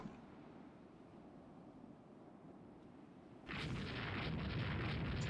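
Two torpedoes strike a warship in the naval strategy game Rule the Waves 3, set in 1890s France: a low rumbling backdrop suddenly swells into a loud, sustained broadband explosion roar that holds to the end.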